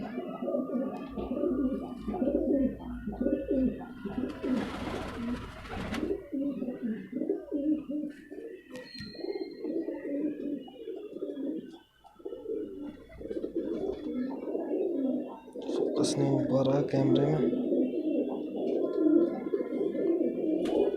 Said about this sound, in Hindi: ये कबूतर वही हैं जो शाम शाम तक बाजियों में उड़ते हैं।